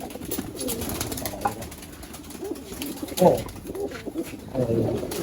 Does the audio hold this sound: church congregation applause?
no